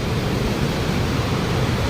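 Rushing water at Montmorency Falls makes a steady, loud, dense roar that stays at one level throughout, with no voices or breaks.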